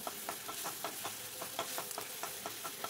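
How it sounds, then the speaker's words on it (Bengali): Spice paste fries in oil with potatoes under a soft, steady sizzle, punctuated by regular light scraping taps of a spatula stirring the pan. "এবার এটাকে দিয়ে কষিয়ে নিচ্ছি মশলাটাকে, তেল ছাড়া পর্যন্ত কষবো ভালো করে।"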